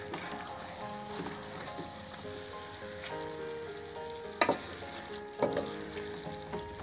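Chicken pieces sizzle in masala for a coconut-milk chicken curry, with a steady fry under soft background music and a couple of sharp scrapes from a stirring spoon near the end.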